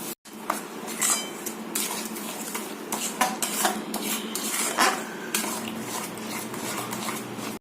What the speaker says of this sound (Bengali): এইবার এটার মধ্যে সুজিটা মিশিয়ে দিচ্ছি।